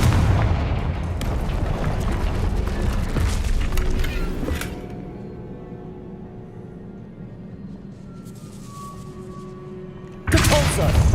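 Confringo fire spell explosions in Hogwarts Legacy on PS5 boom out as loud, dense blasts that fade into a ringing tail, followed by another sharp burst at the end.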